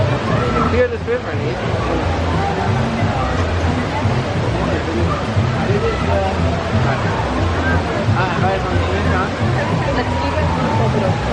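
Artificial river at a water park flowing with a steady, loud rush of churning water, constant throughout, with a background babble of crowd voices mixed in.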